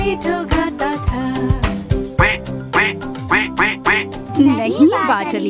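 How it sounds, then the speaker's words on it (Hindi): Loud duck quacks repeat in a steady rhythmic pattern within a Hindi nursery rhyme, set over bright music with percussive beats, a voice joining near the end. "नहीं बाटलीटो, ये बतख की आवाज है।"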